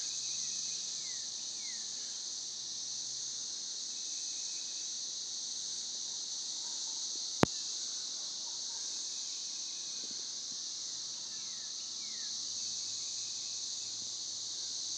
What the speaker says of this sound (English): that's the 17-year cicada